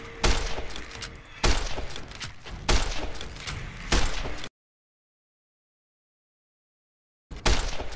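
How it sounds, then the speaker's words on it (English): A varmint rifle fires in Fallout New Vegas during a Deathclaw hunt: four loud, booming shots about a second apart, each with a ringing tail, then a sudden silence before a fifth shot. "I may as well just shoot him with the varmint rifle"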